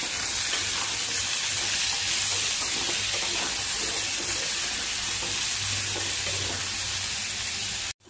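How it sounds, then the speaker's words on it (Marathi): Sweet potato pieces fry in hot oil with loud, continuous sizzling and hissing, punctuated by occasional stirring, close and steady until an abrupt cut at the end. "आपल्याला ह्या रताळ्याच्या फोडी चांगल्या तेलावरती परतवून घ्यायचं."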